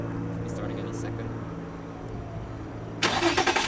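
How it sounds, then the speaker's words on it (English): A car engine starts by remote command sent as a text from a BlackBerry 8830 phone: a low idle-like hum, then a sudden loud crank and catch near the end, with a person talking just before. "Yeah, I just sent the start command to the car. It'll be starting any second."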